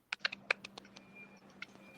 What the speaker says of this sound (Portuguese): Tem um barulho de teclado entrando.